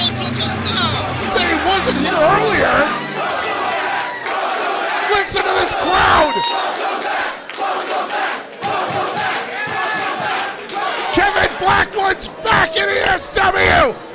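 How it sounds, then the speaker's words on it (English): A professional wrestling crowd roars at an Empire State Wrestling event, a dense wall of shouting, cheering and chanting that swells and surges continuously throughout, with individual yells and bellows rising out of the loud babble. "Listen to this crowd."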